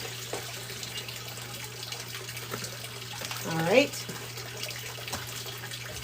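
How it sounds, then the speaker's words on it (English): Water runs from an indoor rain barrel while filling a 5-gallon container, a faint steady trickle and hum under a brief spoken remark. "also running the rain barrel right now to get me 5 gallons of water out of the rain barrel"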